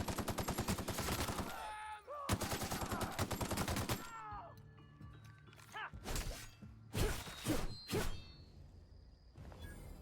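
Gunfire in The Outer Worlds video game, rapid bursts of loud automatic shots in two long volleys followed by several separate shorter blasts and clunks, with no talk.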